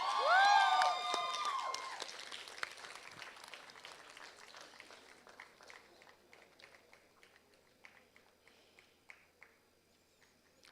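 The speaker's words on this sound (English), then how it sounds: "Round of applause for Pushkar, please." Audience applause at an award ceremony, starting with a brief cheer and whoops, then clapping that gradually fades away into scattered claps.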